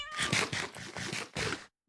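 A spotted cat meows repeatedly in a series of about six close, clear calls with short gaps, then falls silent.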